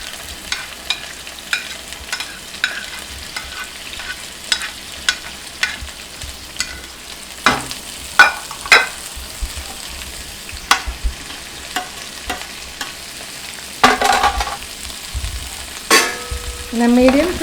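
Sliced onions fry over a medium flame with ginger garlic paste and chopped green chilies for a beef roast, a low steady sizzle under repeated sharp clicks and scrapes of stirring, with a few louder clattering bursts.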